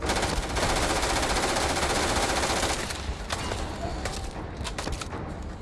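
Automatic gunfire in the video game Starfield, a loud, dense sustained burst for nearly three seconds, then scattered sharper single shots over a lingering background.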